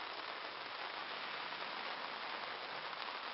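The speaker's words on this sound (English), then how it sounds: "it did start raining earlier this week and it's pretty much continued ever since" Steady, continuous rain falling outdoors on an August day, a dense unbroken hiss of drops on surfaces that stays even and moderately loud throughout with no voices.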